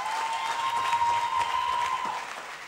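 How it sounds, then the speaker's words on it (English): An audience applauds, a sustained wash of many hands clapping together at steady loudness, with a faint tone ringing behind it. "Let's clap for them one more time."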